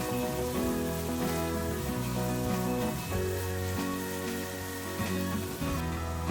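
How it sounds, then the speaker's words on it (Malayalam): Garlic with dried and green chilies sautés in a pan for a beetroot chutney, giving a steady, fairly loud hiss and crackle that runs unbroken, with tonal sounds layered over it and no talk. "പിന്നെ നമ്മുടെ വെളുത്തുള്ളി, ഉണക്കമുളക്, പച്ചമുളക് ഇതെല്ലാം ഇട്ട് നന്നായിട്ടൊന്ന് വഴറ്റിങ് എടുക്കണം"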